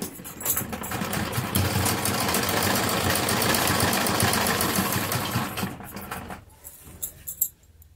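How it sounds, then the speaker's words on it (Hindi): A sewing machine runs a seam along the edge of samosa lace on a palazzo pant, its loud, steady motor whir lasting several seconds before slowing and stopping, followed by a few faint handling clicks. "अब हम इसकी किनारे पर एक सिलाई लगा लेंगे।"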